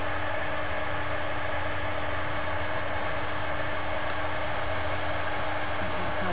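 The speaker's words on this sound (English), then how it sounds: "Sorry about the noise. I'm going to let my heat gun heat up here." A heat gun warms up with a steady, loud blowing roar and a constant electrical hum, unbroken for several seconds, with no talking.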